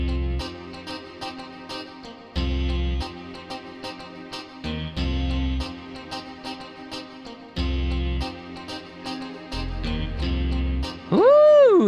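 A synth melody on a Triton Strato Chime preset over a Digi Syn bass plays in a bouncy 2000s-style loop, with chiming notes in repeated phrases over pulsing low bass; no voices.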